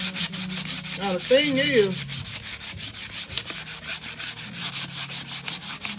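BBQ grill rims that have been painted are sanded by hand. The rubbing scrapes along in steady, close, rhythmic strokes throughout, with a brief voice near the start.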